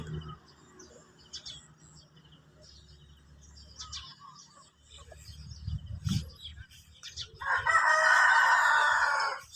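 Burmese gamecock roosters are heard over quieter background scuffling and chirps, then one nearby rooster lets out a loud, full crow at the end.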